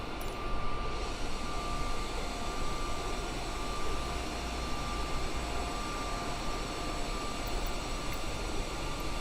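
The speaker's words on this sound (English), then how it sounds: "We are in the 787-10 Dreamliner." Steady, loud, broadband engine roar of a Boeing 787-10 Dreamliner cruising in a flight simulator game, a constant jet drone with a faint tonal whine running unbroken throughout and no voices.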